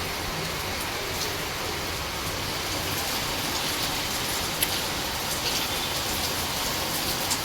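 Heavy rain pouring down steadily, a dense, even hiss of drops on surfaces with occasional sharper drip taps, continuous and fairly loud throughout with no voices.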